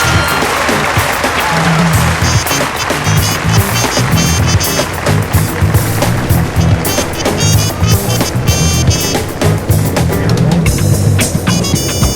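A luge sled runs down an icy track in the Winter Sports 2009 video game, a loud, steady scraping rush that carries on throughout with crowd noise and commentary over the top.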